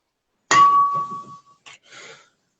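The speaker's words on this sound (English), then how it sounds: "I picked up the water glass." A water glass picked up gives a bright clink, one clear ringing ping that fades over about a second, followed by a few soft scrapes and taps as it is handled.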